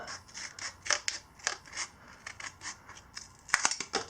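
Scissors snip through a cardboard template in a quick, uneven series of crisp cuts, close and fairly quiet with no talking.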